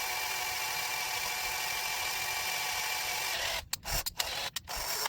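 A steady high-pitched whine of a power drill boring into a polymer Sig Sauer P320 AXG grip module, then a few brief stops and restarts near the end.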